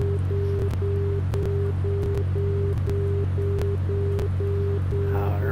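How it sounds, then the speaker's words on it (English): An aircraft outer marker beacon sounds on the cockpit radio as a regular stream of short, evenly spaced tone dashes, steady and loud over a constant engine drone and static hiss, with no talk. "Outer marker."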